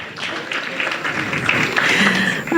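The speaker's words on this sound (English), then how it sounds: "A round of applause for Waziri." Audience applause fills a media town hall on Kenya's health sector, a steady dense wash of many hands clapping that holds and swells slightly toward the end.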